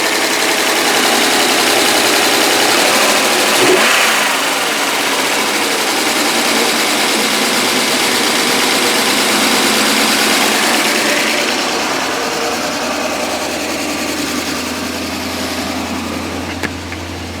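A 1998 BMW 740iL with a newly fitted fuel pump and leaking valve cover gaskets runs steadily and loudly close by, its engine holding an even, slightly rough idle throughout with no voices.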